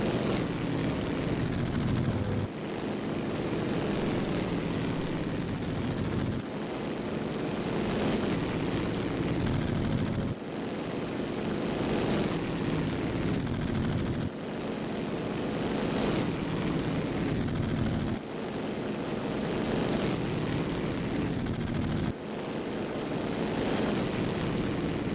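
Loud 1923 Grand Prix racing cars, including a Delage, roar past repeatedly, each pass swelling and cutting off at regular intervals, with no talking.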